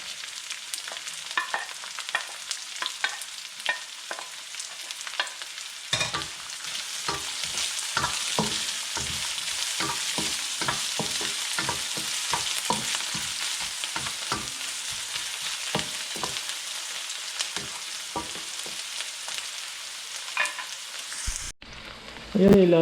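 Onions frying for bopis, a loud steady sizzle in a pan with rhythmic stirring scrapes throughout, a brief break and clatter at the very end.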